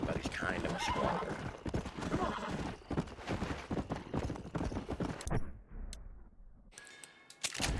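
Horse gallops at full sprint with hoofbeats and loud neighs in the video game Red Dead Redemption 2, layered over game music and someone talking throughout, with the sound briefly thinning near the end.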